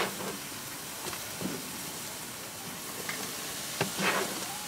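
Pastor pork sizzles and hisses steadily in a hot pan, with scraping stir sounds and a few louder spatters and clatters of utensil against the pan over the continuous frying.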